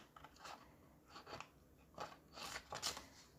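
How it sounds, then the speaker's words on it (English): Scissors slice through leather along a straight line in a series of crisp, rhythmic snips, close up and quiet. "just cut that straight line right up the middle of that"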